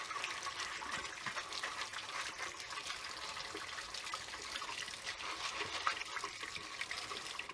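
Water pours and splashes steadily over a small batch of muscadine grape seeds being rinsed, a continuous close gushing rush with no talk.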